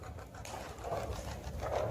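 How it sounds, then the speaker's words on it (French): Soft, muffled cooing of pigeons, two low coos over a quiet background hum, somewhat distant. "Je me demande où ils vont les pigeons."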